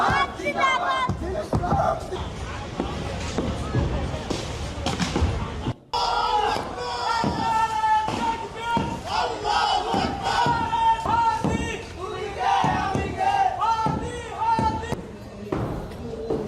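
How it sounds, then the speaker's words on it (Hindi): A large crowd chants slogans at a street protest in Dhanmondi, Bangladesh, with loud rhythmic shouted cries rising and falling, a brief cut near the middle, then more massed chanting with scattered thuds. "यूं नारे लगाए जाते रहे और साथ में घर गिराए जाने की कोशिश होती रही।"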